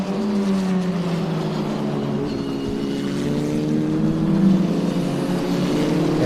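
Formula Regional Americas race cars at speed during an NJ Lottery SpeedTour race, a sustained, loud, tonal engine drone with layered harmonics that shift slightly in pitch as the cars run down the track.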